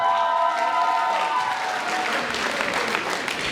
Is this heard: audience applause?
yes